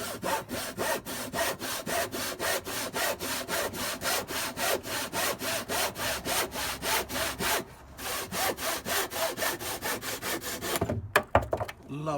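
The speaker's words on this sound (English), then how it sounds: "let's go and saw these ends off, shall we? I'm just using a little tenon saw here" Small tenon saw cutting through pine, with rapid, even back-and-forth strokes close up for about eleven seconds, one short pause partway, then a few scraping finishing strokes.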